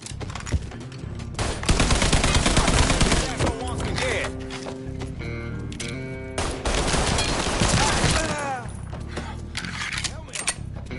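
Rapid bursts of automatic gunfire and shots in a PS4 prison-break action game, loud and dense with overlapping volleys, game voices talking over the din.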